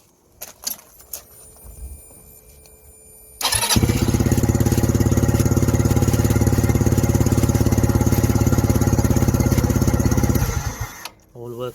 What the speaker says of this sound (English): crank up the engine.